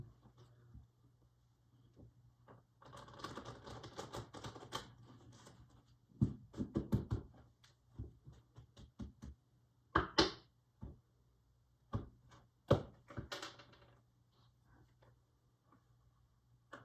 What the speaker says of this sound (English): I'll cut the cards to confirm it